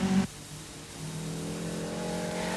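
A rally car in 1983 NSW Rally Championship competition reverses out of a tight left-hand corner on a dusty gravel stage and drives off, its engine note climbing steadily as it pulls away with no talk.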